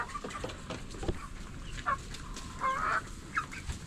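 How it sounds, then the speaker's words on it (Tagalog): Chickens clucking in a backyard flock of hens and roosters: several close, scattered clucks and short calls over a steady outdoor background, with no talk. "Ilan na ba ang hen natin?"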